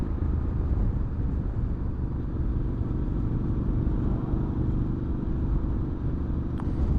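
Air-cooled Triumph Scrambler 900 motorcycle engine running, a steady, low, throbbing rumble held without break at close range, loud and continuous with no talk over it.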